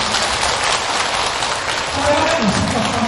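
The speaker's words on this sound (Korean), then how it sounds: "박수 부탁드리겠습니다" At a Buddhist temple dharma service, an audience claps steadily in a hall, a dense, even patter of applause that holds at the same level.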